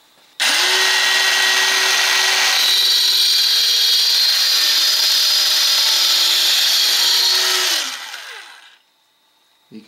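A Makita SH02Z 3-3/8 inch cordless circular saw cuts through wood, its high motor whine rising sharply, holding steady and loud for about seven seconds, then winding down as the blade spins to a stop.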